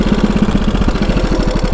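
A 109-year-old TT racing motorcycle engine runs at low throttle, a steady low, chugging idle with a rapid, slightly uneven firing pulse, close and fairly loud, with no one talking.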